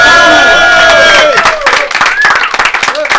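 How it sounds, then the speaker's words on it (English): Audience at a live comedy show bursts into applause and cheering, dense clapping with whoops and shouts rising over a fading tone, loud and close for a few seconds. "Give him a round of applause."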